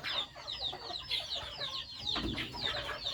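Chickens in a farm coop cluck and chatter in overlapping bursts, quiet and somewhat distant, with a continuous busy murmur of hens and no human voices.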